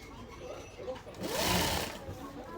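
A sewing machine stitches a kurti sleeve seam in one short, close whirring run that swells and fades, heard alone with no talking.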